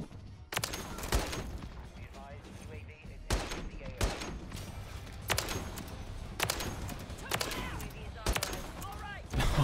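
Heavy shots from a Barrett .50 cal rifle in a video game, about seven loud sharp cracks spaced a second or so apart, each with a short echoing tail.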